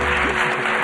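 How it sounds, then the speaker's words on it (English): Audience applause at a university lecture, a dense steady wash of clapping filling the short moment at close range with no pauses. "We want more enthusiastic clap for the solution"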